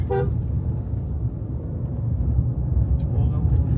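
A short car horn toot sounds at the start, followed by a continuous low engine rumble from a nearby vehicle.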